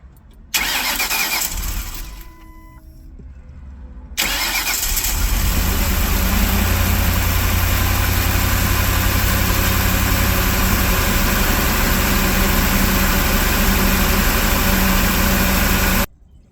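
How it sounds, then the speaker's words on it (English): A 2005 Ford Econoline E350 Super Duty van engine cranks, catches and starts a little rough after an intake manifold replacement, then settles into a loud, steady, close idle that runs on unbroken until it cuts off. "when I first started, she ran a little rough, but it quickly settled down after it got enough fuel in the system"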